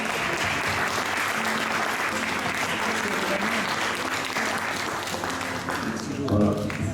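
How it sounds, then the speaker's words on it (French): Steady applause rises from a seated audience after a partnership agreement is signed between a food bank and a Rotary district. Voices murmur faintly beneath the sustained clapping. "On peut faire un petit applaudissement"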